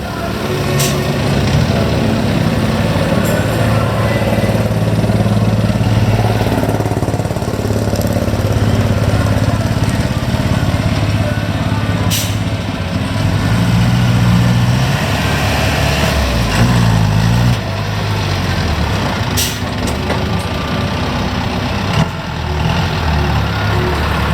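A single-cylinder engine fitted to a Thai E-tan farm vehicle, an Isuzu 88 horsepower unit, idles steadily and loudly at close range, its low throbbing drone continuing without a break.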